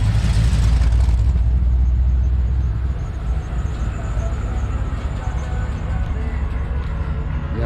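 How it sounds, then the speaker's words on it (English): A Corvette roars past on a track-day strip, a loud broadband engine and wind rush that peaks at the start and then settles into a steady drone. "We got another Corvette coming down the strip."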